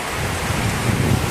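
A loud, dense wash of heavy storm rain, steady and roaring across the whole moment, with gusty wind noise and no voices.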